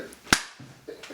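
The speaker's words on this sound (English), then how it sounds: "I'll clap." A single sharp hand clap, near and loud, standing out briefly between quiet room sounds and faint murmurs.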